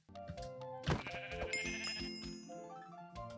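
Sheep bleating from a video game, a few wavering, harmonic bleats overlapping at close range with no talk, the loudest one rising sharply near the start and the rest trailing off.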